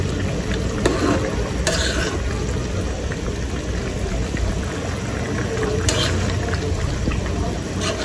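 Pieces of fish drop into a bubbling, simmering fish bhuna curry in a pan, with steady low sizzling and liquid bubbling throughout and a couple of brief sharper clatters close by.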